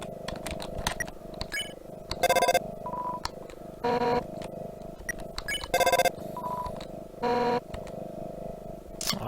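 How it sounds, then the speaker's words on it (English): Undertale game audio with a phone ringing in repeated short electronic bursts at regular intervals, heard over blips of text sounds and background music, no talking. "I have to get the phone call."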